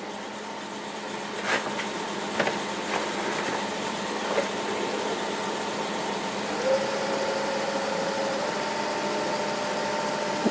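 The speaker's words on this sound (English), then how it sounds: "Use the 1/2" bowl gouge for this." A wood lathe turns a bowl blank while a 1/2 inch bowl gouge cuts, a steady droning whir with faint scraping and a few brief clicks, no talking.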